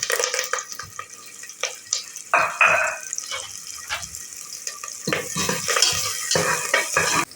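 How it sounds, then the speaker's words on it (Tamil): Onions and curry leaves sautéing in hot oil in a cooker, with stirring scrapes and bursts of sizzling that come and go, close by and without talk. "கருவேப்பிலையும் வெங்காயத்தையும் போட்டு நல்லா வதக்கி விட்டுக்கலாம்."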